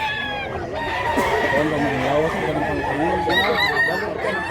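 A rooster crows loudly and close at a chicken market in Mantalungon, Cebu, with clucking from other chickens and a busy murmur around it.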